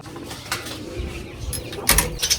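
Pigeons cooing near a loft just after being let out, low soft coos over a busy background with a few sharper chirps and mechanical rattles toward the end.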